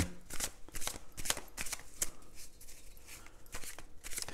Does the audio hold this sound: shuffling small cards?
yes